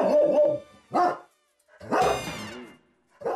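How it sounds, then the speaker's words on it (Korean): A huge dog in a rural farm yard barks repeatedly, four loud, close, deep barks with short pauses between them, alone without other sounds. "그런데 느닷없이 짖기 시작하는 녀석."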